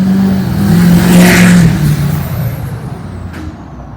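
A loud vehicle engine rumbles and revs close by, its tone sliding downward as it passes, followed by a short sharp hiss like an air brake releasing near the end.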